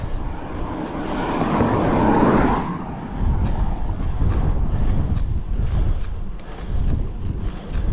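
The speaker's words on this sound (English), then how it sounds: "it's a headwind which makes things a bit more of a slog" Strong headwind buffeting a cyclist on a bike ride, a loud, steady roaring rush of wind noise that swells and gusts continuously throughout, with no talk.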